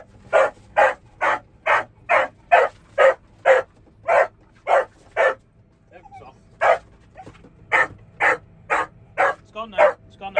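Chester the dog barks excitedly at a rabbit in a field during mowing, a rapid string of sharp, close yips and barks in steady bursts, pausing briefly before resuming, with quiet background hum.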